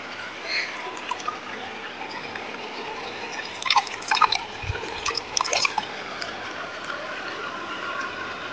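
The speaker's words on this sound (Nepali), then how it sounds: "यहाँहरुले खोलाको आवाज सुन्न सक्नुहुन्छ गाइस" A river flows with a steady broad rush of water, with scattered small splashes and trickles rising briefly above it, heard up close with no talk.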